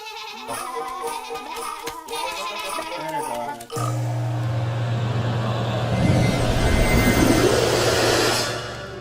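Cartoon sheep bleat in an animated Little Krishna episode, several wavering calls at moderate loudness, followed by a loud jet-like whooshing roar.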